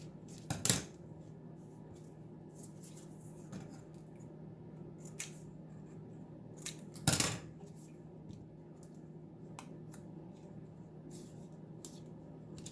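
Scissors trim paper pieces for a pop art collage, giving a few short, sharp snips at scattered moments over a quiet background.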